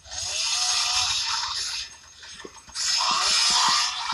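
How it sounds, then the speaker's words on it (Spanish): A chainsaw in the zombie shooter game They Are Coming roars in two loud sustained bursts, buzzing steadily with a short lull between them, and no talk over it. "Ya lo maté el gigantón con el motosierra."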